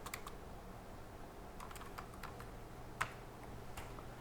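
Typing on a computer keyboard, with scattered light key clicks in short irregular bursts and one sharper tap, close and fairly quiet over a steady low background hum.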